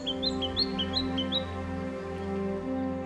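A wattlebird calls in the wild with a short run of five or six sharp, rising chirps in quick succession, clear and fairly close over a steady low background hum.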